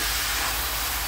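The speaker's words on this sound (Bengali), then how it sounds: "এই যে ডিমগুলো এখন ভেজে নিচ্ছি" Eggs frying in a home kitchen, a dense continuous hiss, loud and close throughout.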